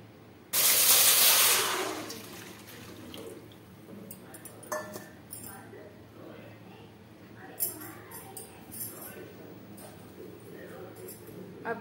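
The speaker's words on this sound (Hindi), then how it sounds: "अब इसमें पानी डालूंगी।" Water pours into a kadhai on a gas stove in a home kitchen, a loud rushing splash in the opening seconds, then quieter dripping and handling noises.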